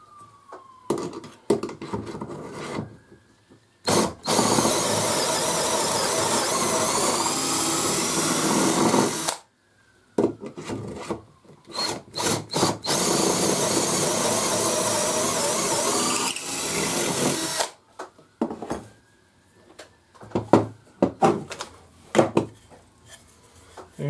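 Pocket holes drilled in wood with a Katsu portable pocket hole jig clamped in place, heard as two long, loud, close drill runs separated by short pauses, with brief starts, stops and handling clatter around them.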